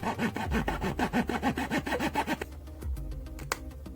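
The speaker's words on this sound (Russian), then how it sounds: "а с корня спиливаю нижнюю часть для того, чтобы основание дерева было ровным" A handsaw rasps back and forth through the base of a tree root in a quick, even rhythm of about a dozen strokes, then stops, followed by a few faint knocks.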